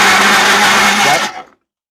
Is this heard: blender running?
yes